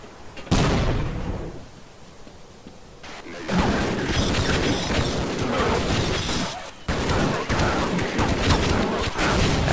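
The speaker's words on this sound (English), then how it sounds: "Let's throw a grenade" A grenade blasts in Half-Life with a sudden loud boom that fades out, followed by a second heavy crashing explosion and continuing rumbling, clattering combat noise.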